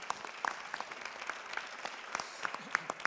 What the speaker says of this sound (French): on peut applaudir Frédéric